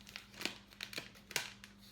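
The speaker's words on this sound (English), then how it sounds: "put it in a plastic bag and freeze it" A plastic bag crinkles in short, scattered bursts, a few sharp rustles over about two seconds, close and fairly quiet in a home kitchen during cake baking.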